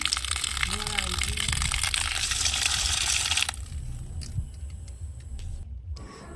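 Water gushes and splashes loudly into a bowl as durba grass and mint leaves are washed by hand, then the rush drops to softer sloshing and dripping, with a voice speaking over it.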